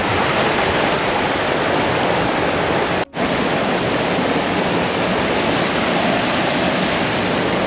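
A small waterfall on a coastal hiking path in southwest Scotland rushes with a steady, broadband hiss of falling water, constant and fairly loud, heard alone without voices.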